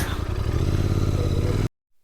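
A Royal Enfield GT 650 motorcycle idling up close as it is parked under a shed, a steady low throbbing engine rumble with some clatter that cuts off abruptly after about a second and a half.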